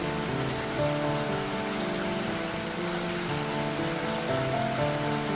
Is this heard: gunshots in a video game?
no